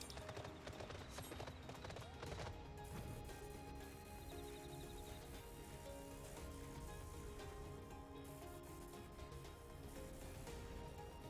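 Horse hooves clip-clop faintly and steadily in a video game, mixed into a dense, busy background of game sound.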